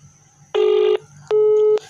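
Two phone keypad dialing tones from a mobile placing a missed call to the Tata Play account refresh number, each a steady half-second beep with a short gap between, loud and close over a quiet hum.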